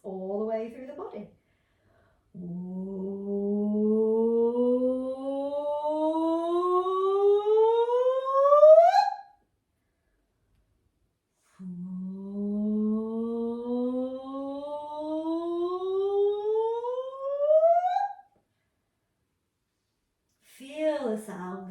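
A single voice performs long vocal yoga whoops, each a smooth upward pitch glide swelling in loudness before cutting off; two full whoops are separated by short pauses, with brief fragments at the very start and end.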